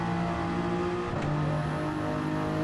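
A race car engine in Gran Turismo 7 holds a steady, loud, high whine with stacked harmonic tones and a brief rev change midway, running continuously with no talk over it.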